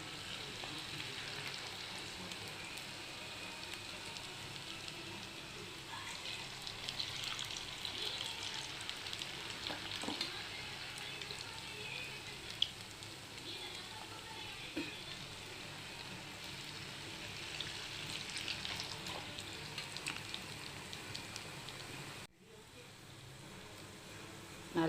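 Small bonda-like balls of dough fry in hot oil with a continuous, dense sizzle and crackle. The sound holds close and steady for the whole stretch, then cuts off abruptly near the end.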